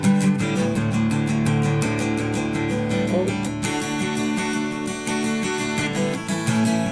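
Acoustic guitar strumming the chords of a song, a steady, full rhythmic pattern of repeated strokes held at an even level throughout, played alone with no voices.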